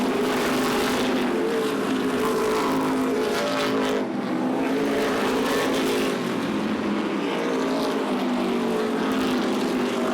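NASCAR Modified race cars roar around Beech Ridge Motor Speedway in 2003, a loud, continuous pack of engines with layered revving and no break throughout.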